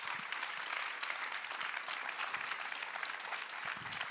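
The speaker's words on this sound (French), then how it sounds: "je pense qu'on peut les applaudir." A seated audience applauds two photographers after a talk, a continuous even roar of many hands clapping at a modest distance, sustained throughout without voices.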